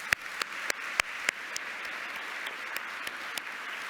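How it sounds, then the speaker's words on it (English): Audience applause at the close of a panel discussion on decision making, a steady broadband patter of many hands with a few sharp louder claps standing out near the start, heard without any voices. "So another big round of applause for Saul and Tim."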